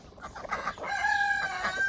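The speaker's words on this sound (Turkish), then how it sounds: "Bak bu bizim horozumuz." A rooster crows nearby, a long strained call rising and holding, with some hen clucking around it; no one speaks.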